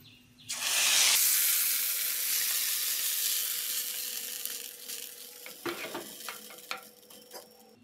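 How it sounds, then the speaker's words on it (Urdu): A loud burst of sizzling as garlic, cumin, mustard seeds, curry leaves and red chili hit hot oil, settling into a steady crackling fry with scattered clinks and stirring toward the end. "پین میں آئل ڈال کر لہسن ہلکا سا گولڈن کریں"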